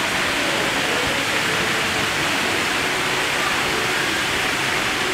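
An indoor waterfall inside a large shopping mall in Hua Hin pours continuously, a loud, even rushing roar of falling water that fills the whole stretch without letting up.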